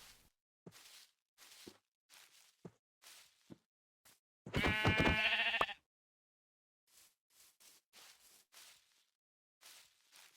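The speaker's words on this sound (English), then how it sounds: "Then I hear one more sheep" A sheep in Minecraft gives one loud, close bleat in the middle, set among a regular run of soft, short blocky footstep taps and quiet gaps.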